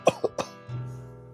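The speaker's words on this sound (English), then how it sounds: "you can really start to hear him cough up as well" A character coughs in the video game The Stranger: three sharp, close coughs in quick succession, followed by a low, sustained hoarse groan or wheeze.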